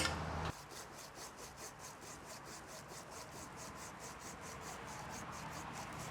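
A hand saw cuts through a tree branch with a quick, steady rhythm of rasping strokes, close and clear, after a brief louder scrape at the start.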